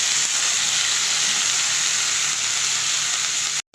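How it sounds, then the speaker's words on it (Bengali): Cauliflower pieces fry in hot oil in a pan, giving a loud, steady sizzle and hiss that fills the moment before cutting off abruptly at the end. "ফুলকপিগুলোকেও আমি আলুর মতো একটু ভেজে নেব।"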